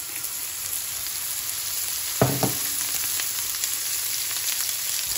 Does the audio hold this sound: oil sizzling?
yes